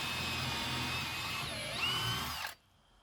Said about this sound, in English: Pre-drill the hole for the carriage bolts.